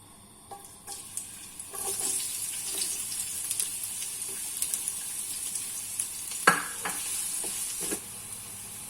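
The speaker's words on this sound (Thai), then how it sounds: "ผัดจนหอมเริ่ม เป็นสีน้ำตาลนะจ้าพี่น้อง" Onions (white or large yellow) sizzle steadily in a hot pan while being stir-fried until browned, with occasional spatula scrapes and clinks over a constant frying hiss.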